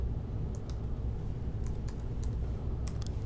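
Fingers typing on a laptop keyboard produce quick, close key clicks in small irregular bursts over a steady low fan hum.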